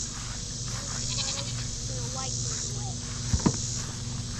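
A goat on a homestead bleats in a few short, wavering calls over a steady outdoor background, with a couple of sharp knocks near the end.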